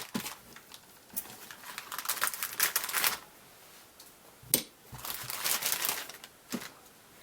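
Plastic packaging around the body of a 1:25-scale 1958 Edsel Pacer AMT Ertl model car kit is cut and crinkled open, producing close, sharp crackling and rustling bursts between short quiet gaps.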